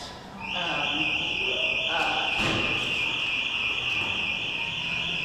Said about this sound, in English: That's a door alarm.